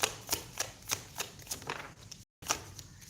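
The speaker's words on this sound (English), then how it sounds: "Let me just shuffle it back into the deck." A deck of tarot cards is shuffled by hand, giving a run of about eight crisp, rhythmic riffling flutters close by, with a brief gap of silence near the end before one more shuffle.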